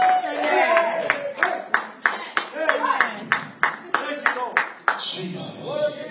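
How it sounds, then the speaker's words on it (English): A church congregation claps in a steady rhythm, about a dozen sharp hand claps over roughly six seconds, with voices shouting and calling out between them and a louder crowd outburst near the end. "give God a hand clap and a shout"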